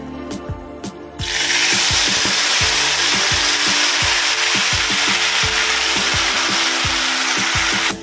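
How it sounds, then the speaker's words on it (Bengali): Curry poured into a hot pan for gathi kochu with chingri prawns, bursting into loud, steady sizzling after a brief quieter start, with utensil scrapes and clinks underneath. "তরকারিটা ঢেলে দেবো"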